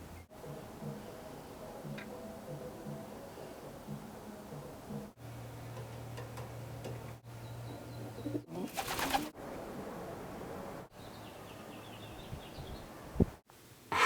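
Soft, low pigeon cooing inside a loft, a few drawn-out coos with faint rustles and clicks around them, fairly quiet and heard on its own.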